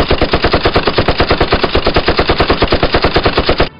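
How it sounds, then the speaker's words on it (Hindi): Rapid automatic gunfire from a Hindi film scene, a loud continuous burst of evenly spaced shots for nearly four seconds that cuts off abruptly, with no voices over it. "जासूसी मत, फायर करो सालों।"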